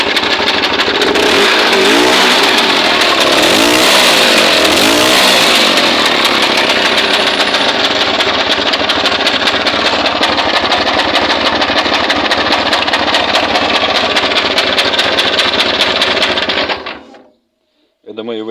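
A small carbureted PD10 engine running on propane idles steadily, a continuous buzzing drone with a brief rev near the start, cutting out just before the end.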